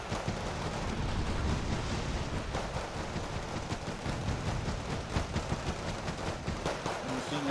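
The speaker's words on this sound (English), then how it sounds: "Machine gun fire from the Panzer Grenadiers" Dense, continuous gunfire and battle noise roar from Panzer Grenadiers in the wargame Wargame Red Dragon, a thick wash of rapid shots and rumbling impacts with faint talk underneath.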